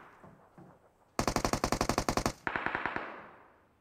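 Automatic gunfire in PUBG Mobile, a close rapid burst of about a dozen loud shots followed by several more single cracks with echo, no talk over it.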